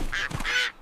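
Duck quacking in a farm setting, two short nasal calls in quick succession, close and fairly loud, with no talk over them.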